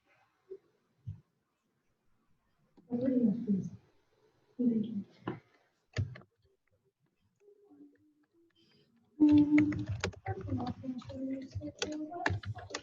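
Light clicking keystrokes on a computer keyboard tap out a chat message in an online meeting, coming in a sparse, uneven patter that follows a few brief snatches of talk.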